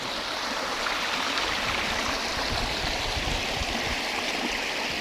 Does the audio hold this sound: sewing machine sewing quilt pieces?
no